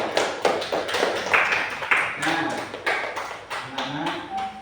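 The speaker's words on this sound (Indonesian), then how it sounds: "tepuk tangan." Applause from a classroom of students, a dense, continuous patter of many hands clapping at once, steady and fairly loud throughout, with a few faint voices mixed in.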